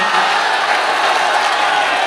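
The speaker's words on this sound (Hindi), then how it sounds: "तालियां कमजोर है," Audience at an Urdu/Hindi poetry recital (mushaira) applauding and cheering, a steady wash of clapping and crowd noise filling the whole stretch, fairly loud and continuous.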